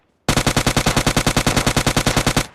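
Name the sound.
gunfire in PUBG Lite video game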